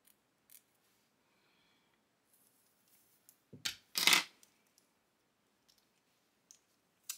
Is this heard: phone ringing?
no